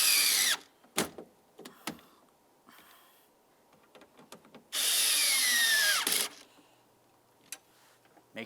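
A power drill or driver snugs up the mounting bolts on a front power window motor of a 2003-2011 Mercury Grand Marquis, two loud bursts of whirring a few seconds apart, with clicks and handling noises between.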